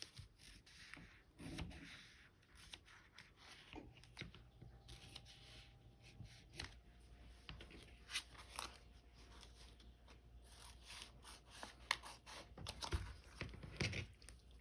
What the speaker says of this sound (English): I'm going to come in here with my scissors and trim that down